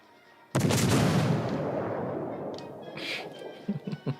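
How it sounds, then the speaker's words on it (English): A single heavy naval artillery salvo from a warship in World of Warships booms out sharply, then rolls into a long fading rumble, followed by faint distant thuds near the end. "All stations, concentrate fire on the target."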